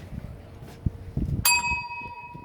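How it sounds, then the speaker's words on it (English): A bell is struck once, sounding a bright, ringing tone that sustains and slowly fades, close and loud after some low thumps and handling noise. "Ring the bell."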